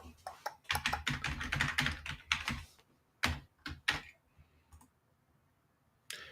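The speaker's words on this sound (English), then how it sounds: "I got one of those old mechanical keyboards, so they they make a lot of noise" An old mechanical keyboard clacks in quick bursts of key presses, loud and close, then a few scattered single clicks separated by pauses.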